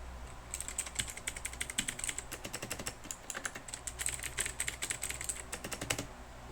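Rapid clicky typing on an Oker K428 mechanical keyboard with blue switches, crisp keystrokes coming in quick bursts with short pauses, close to the microphone.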